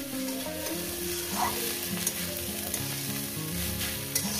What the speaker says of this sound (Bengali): এবারে 3-4 মিনিট এটাকে আমি ভেজে নেব